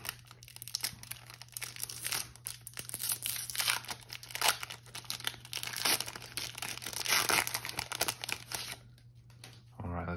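Close crinkling and tearing of a Pokémon Celebrations booster pack wrapper, a steady run of crackly plastic rustling for about nine seconds that stops abruptly near the end.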